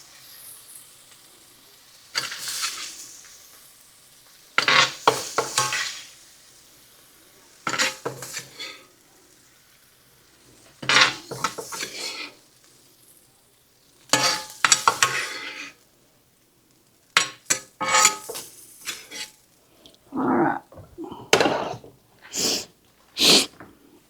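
Mushrooms go onto a cooktop while Philly cheese steak sliders are being made, giving sizzling and frying bursts along with clattering stirring and scraping against the pan. The sounds come in separate, loud chunks with short quiet gaps between them.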